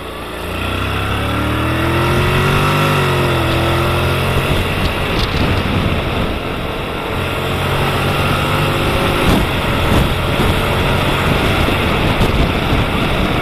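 Honda X-ADV 750 scooter-style motorcycle engine droning steadily while riding on the road, loud and continuous with rising and falling revs and wind rush, no talking.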